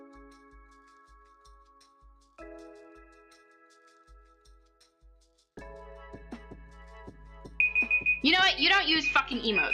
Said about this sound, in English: Oh, that's the alarm for the tacos!